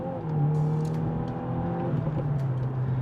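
A Subaru WRX accelerates with quick gear shifts, its engine note climbing then dropping briefly at each change, a steady close mechanical drone heard alone without talk.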